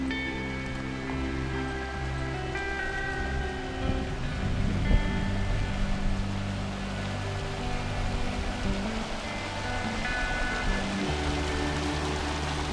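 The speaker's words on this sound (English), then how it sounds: "Daisy, I think this is where the trail's supposed to cross the creek." A flooded creek rushes at a trail crossing where the bridge is out, a steady broadband wash of flowing water heard nearby at moderate level, with a low hum underneath and no talking.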